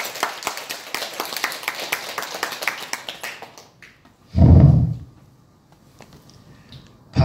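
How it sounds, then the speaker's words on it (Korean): Audience at a religious gathering clapping together in quick, rhythmic unison, a dense series of sharp claps that fades out, followed by a loud thump and quiet. "우리 박수 한번 칩시다."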